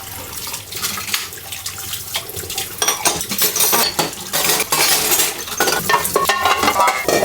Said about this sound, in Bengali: সকালের নাস্তা দুইটা মানুষ খাইলাম তাই দেখেন থালা বাসন কতগুলো